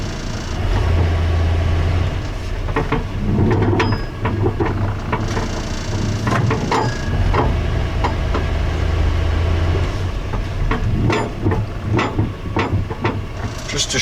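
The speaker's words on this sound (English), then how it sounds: "I'm giving it a lot of gas, a lot of throttle." A Chevrolet C10 Stepside truck engine rumbles close by, with a low droning idle and repeated surges as the throttle is pressed, alongside hissing and rattling noises under the hood.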